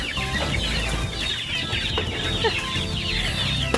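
Fighting-cock chickens clucking inside a netted pen at feeding time, with a dense, continuous chorus of close, overlapping clucks and calls and no talk.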